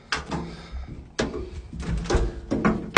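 A school bus back door being worked, giving a few loud mechanical thunks and clunks at irregular intervals, close by with no talk.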